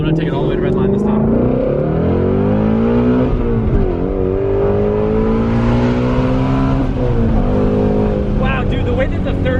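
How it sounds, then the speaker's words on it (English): A Ford Mustang GT350's engine pulls hard through the gears toward redline, its pitch sweeping upward in long rising runs with a brief dip at a shift, loud and close from inside the car. "I'm gonna take it all the way to red line this time"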